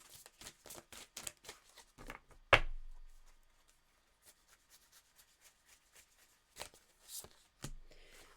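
Oracle cards are shuffled in a series of quick, soft rubbing riffles, followed by a sharp slap, a quiet stretch with faint taps, then a few more brushing shuffles.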